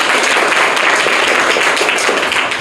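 Loud, dense applause fills the room for a student quiz contestant at a school competition in Mumbai, steady clapping running throughout with no gaps.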